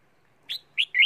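A songbird caught from the wild gives three sharp, high chirps in quick succession after a short silence, close and clear, with no voices.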